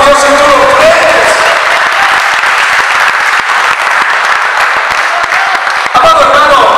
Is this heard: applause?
yes